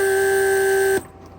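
On a bench test, a Mercedes S500 door-locking vacuum pump runs with a steady, loud electric whine and buzz, then cuts off abruptly after about a second, leaving faint background noise.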